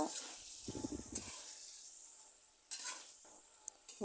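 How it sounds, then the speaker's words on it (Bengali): Rui fish curry with broad beans being stirred in a pan, a short burst of spoon-scraping strokes over a steady sizzle, then a second brief stir near the end. "দেখুন এবার আবার লাড়িয়ে নিব"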